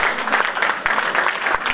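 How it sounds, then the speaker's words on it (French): Conference audience applauding Ardyss distributors at a product event, dense continuous clapping, close and fairly loud throughout the short burst. "Je pensais que vous allez vous applaudir"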